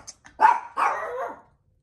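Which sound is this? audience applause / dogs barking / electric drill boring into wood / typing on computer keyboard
dogs barking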